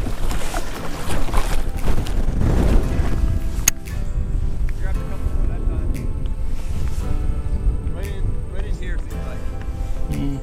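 Strong wind buffets the microphone during kayak fishing on open water, a loud steady roar with gusts, and a voice speaks partway through.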